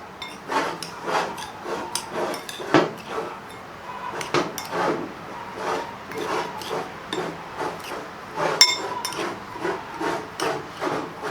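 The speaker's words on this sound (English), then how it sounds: "Let's give this a stir." Coffee spice rub mix being stirred by hand in a bowl for smoked pulled pork and chuck roast, a close, steady series of scraping and rubbing strokes with occasional knocks, heard on its own.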